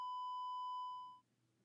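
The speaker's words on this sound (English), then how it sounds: "followed by the monotone sound of a single beep" A single steady electronic flatline tone from a vitals monitor holds flat for about a second before cutting off, leaving faint background noise.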